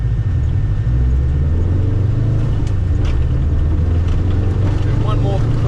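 Heard from inside, a rally car drives laps on a gravel course at a rally school, with a loud continuous engine rumble and road noise as voices talk over it.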